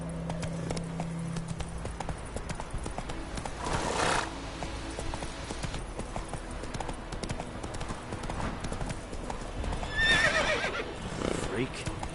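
In The Witcher 3, a horse's hooves clip-clop in a steady galloping rhythm, with a loud neigh or whinny breaking out twice. A voice speaks over the hoofbeats.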